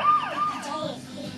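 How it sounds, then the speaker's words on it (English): A fire engine siren from a children's cartoon wails in quick, falling sweeps, loud and brief. "When you hear my siren, get out of my way."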